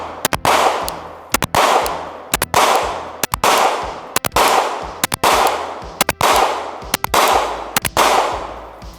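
A Glock 43X pistol fires full-metal-jacket rounds at a range. About a dozen loud, sharp shots come in quick clusters, each followed by a booming, echoing decay. A steady rhythm of shooting runs from start to finish.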